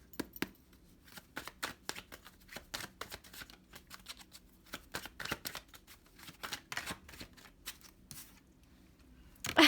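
Tarot cards are shuffled by hand close up, a run of irregular papery riffles and slaps with short pauses between bursts, ending in a slightly louder flurry; no voices.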